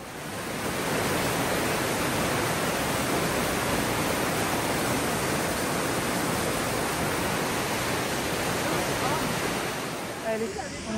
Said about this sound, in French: j'entends de l'eau qui coule. Il doit y avoir une cascade quelque part.